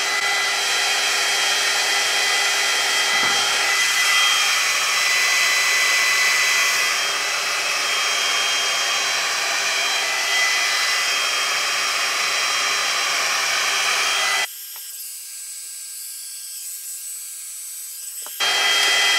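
A Ghd Duet 2-in-1 hair dryer straightener blows steadily while drying hair, a loud constant airy whoosh that briefly drops to a thinner hiss near the end before resuming.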